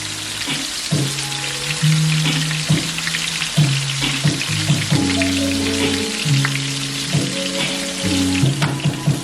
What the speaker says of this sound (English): let your roast cook on both sides for about 5 to 8 minutes, depending on how you want it to look